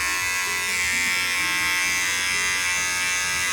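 An electric hair clipper runs steadily while cutting hair during a home haircut, giving a loud, close, unbroken buzzing drone with no pauses and no voices.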